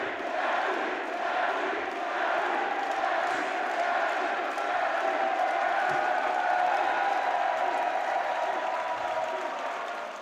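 A large esports arena crowd at the BLAST Rainbow Six Siege Salt Lake City Major semifinal between DarkZero and FaZe Clan roars and chants, a dense, steady wall of voices and cheering that holds for the whole stretch.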